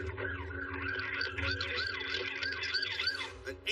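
An emergency vehicle siren wails with rising and falling tones at a crash scene on Bradford Boulevard, heard fairly faint and slightly distant over low traffic rumble.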